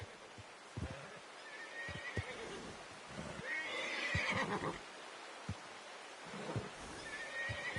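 A horse whinnies and snorts several times in Red Dead Redemption 2 over scattered hoof clops and thumps, fairly close, with no talking.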